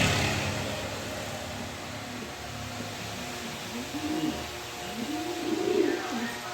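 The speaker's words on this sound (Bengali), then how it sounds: "সুপার কোয়ালিটি এক পেয়ার সাদা কবুতর।" A pair of white racing pigeons coos in two soft, rolling, low phrases over a faint background hum, fairly close and with no clear talk.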